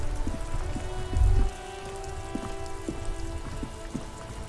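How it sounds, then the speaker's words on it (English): Steady rain falls in Disco Elysium, a close, continuous patter of drops on surfaces with a low soft thump early on and faint ambient tones beneath. "Droplets of rain fall on the white on blue."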